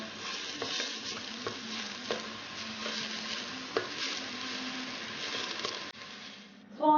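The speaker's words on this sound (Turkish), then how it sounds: "İnce kıydığımız soğanı da katalım ve şeffaflaşana kadar kavuralım." Finely chopped onions sizzle and fry steadily in a hot pan, with occasional stirring scrapes and light clinks throughout.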